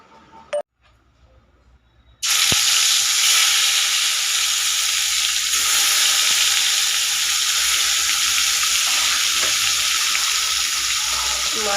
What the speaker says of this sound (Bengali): মাছটা ভাজতে বসিয়ে দিলাম।